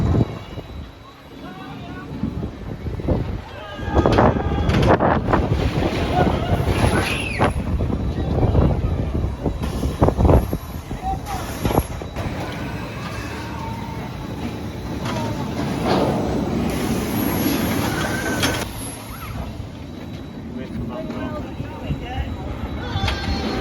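A ride on the Mumbo Jumbo roller coaster at Flamingo Land, with steady rumbling wind and track roar and rattling bursts throughout, and people's voices mixed in over the noise.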